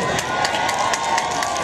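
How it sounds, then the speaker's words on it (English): A concert crowd at a 1990s-themed festival in Jakarta applauds and cheers for a band, a dense roar of clapping and shouts with scattered whoops rising above it. "It's the biggest applause we got all night."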